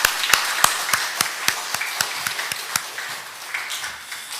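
An Easter service church congregation applauds, with distinct rhythmic hand claps in a steady beat over a broader wash of clapping that fades slightly toward the end.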